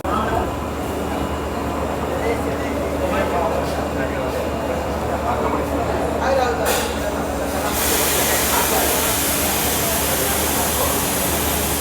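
Howrah–Ranchi 18615 Kriya Yoga Express running at night, a steady low rumble and rattle of the moving carriages with broadband hiss that thickens toward the end; a voice talks over it.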